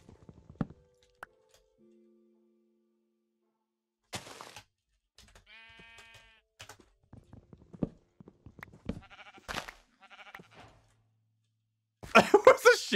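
Sheep bleat in a Minecraft game, with a few short wavering bleats spread across sparse, quiet game sounds and footsteps, ending in a louder burst of noise.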